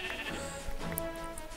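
Sheep bleating in the Minecraft video game, a few close wavering bleats in quick succession with faint game sounds behind them.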